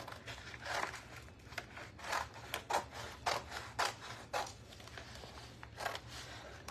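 Scissors snip around a paper rose image in a run of soft, uneven cuts and rustles, close by and fairly quiet, with faint low background hum.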